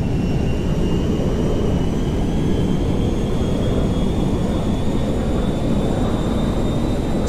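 A cargo jet in the Grand Theft Auto 5 video game flies with a loud, constant broadband engine roar and a faint high whine, steady and unbroken throughout with no voices.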